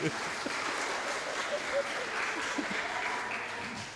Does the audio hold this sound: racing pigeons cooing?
no